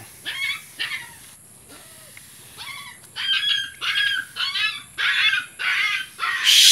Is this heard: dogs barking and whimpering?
yes